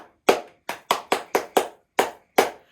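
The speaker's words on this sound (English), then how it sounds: "eventually it becomes a bit of a game where I might clap out a rhythm like" Hands clapping out a short rhythm, nine crisp close claps in an uneven pattern with quick pairs and pauses, alone in a quiet room.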